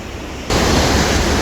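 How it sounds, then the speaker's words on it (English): The waterfall in Lynn Canyon below the suspension bridge, in a rainforest setting, roars as a loud, steady broadband rush that abruptly grows stronger partway through, with no voices. "And there's a waterfall there down below."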